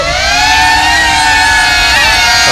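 The electric motors of a DJI Avata FPV drone throttle up into a loud, close, high-pitched whine, holding steady with a brief dip and waver in pitch near the end.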